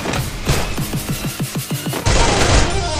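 Gunfire in the Free Fire video game, with a rapid string of about eight sharp shots followed by a louder, denser burst of shooting.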